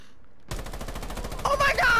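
Rapid gunfire bursts from the Rainbow Six Siege video game, a dense stream of evenly spaced shots starting abruptly after a brief silence, loud and close, with a voice breaking in near the end.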